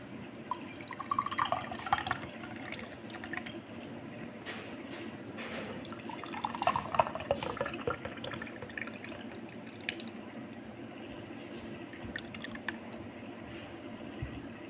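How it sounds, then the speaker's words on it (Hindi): Cooled rabri milk, a thick sweetened milk, pours into a glass with soft trickling and dripping, wet and close, with scattered small splashes over a quiet background. "अब मैं आप इस गिलास में निकाल के आपको दिखाती हूँ"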